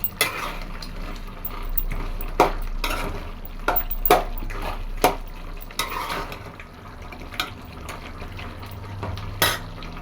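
Chicken gravy being stirred in a pan, a spoon scraping and clinking against the metal in irregular bursts over a soft simmering bubble, no talking.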